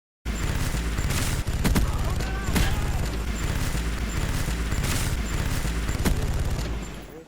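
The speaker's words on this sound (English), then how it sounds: "You can just run around with a Negev and feel like you have a death machine from Call of Duty." Negev machine gun firing in Counter-Strike, a long, rapid stream of close, loud shots with periodic sharper cracks, continuing almost without pause before tapering off at the end.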